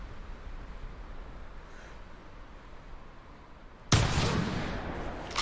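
A single .308 Wolfsbane pistol shot fired at a bison in theHunter 2018 hunting game bursts out loud and sharp after a quiet stretch of outdoor ambience, then rings on with a sustained noisy tail.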